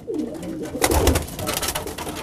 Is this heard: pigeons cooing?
yes